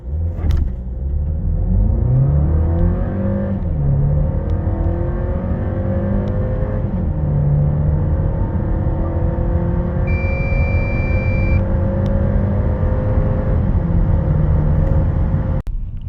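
Volkswagen Passat B9 1.5 TSI with 150 hp, front-wheel drive and a seven-speed DSG accelerating hard to 100 km/h, engine note rising steadily and loud throughout with smooth gear changes, a faint chime partway through.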